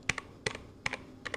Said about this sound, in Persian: قراره تایپ کنم مسعود دیوونه کنم با صداش